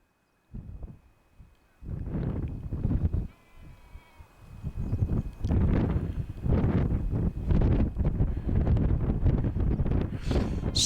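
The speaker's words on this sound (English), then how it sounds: "Still a bit windy" Gusty wind buffets the microphone on an open Yorkshire Dales hilltop as a deep, rumbling roar that rises and falls in long surges. A sheep bleats faintly amid the gusts.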